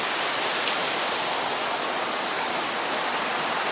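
The River Gade near Water End flows as a steady, close rush of water, a broad even hiss that continues without a break and with no voices.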